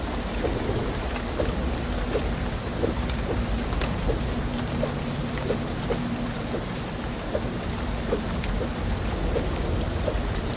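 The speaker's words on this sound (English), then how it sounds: "The rain's really relaxing though" Steady game rain falls in Shadows Over Loathing, a continuous soft hiss with low thunder-like rumble and small, regularly spaced droplet ticks, even and unbroken with no voices.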